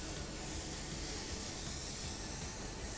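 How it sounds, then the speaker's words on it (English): A paint spray gun with its fan fully open hisses steadily at 16 psi while laying down gray metallic car paint, a constant, even airy rush with no pauses. "Notice how I am not spraying extremely fast."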